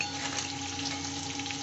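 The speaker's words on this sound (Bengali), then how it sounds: "আলুটা ভাজা হচ্ছে" Potatoes fry in hot oil in a Bengali home kitchen while a pabda fish curry is prepared, giving a soft, steady sizzle that stays even and close, with no one speaking.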